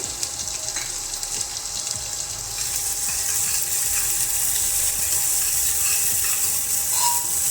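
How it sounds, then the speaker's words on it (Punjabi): Onions fry in a pan with ginger and garlic for a chana dal with pumpkin, a steady, close sizzling hiss with faint clicks and scraping, no talking. "ਹੁਣ ਪਾ ਦਵਾਂਗੇ ਜੀ ਆਪਾਂ ਪਿਆਜ਼ ਪਿਆਜ਼ਾਂ ਨੂੰ ਵੀ ਆਪਾਂ ਭੁੰਨ ਲਵਾਂਗੇ"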